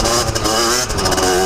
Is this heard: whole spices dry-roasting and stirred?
no